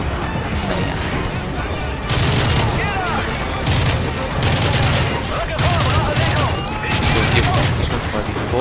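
Heavy AC-130 gunship gunfire in Call of Duty, repeated booming bursts and crashing impacts in an uneven rhythm, loud and dense with in-game voices talking beneath.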